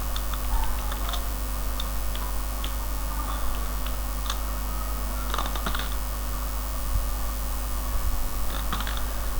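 Keys clatter on a computer keyboard as data is typed into a table in a word processor, with scattered clicks and short bursts of taps over a steady low hum, no voices.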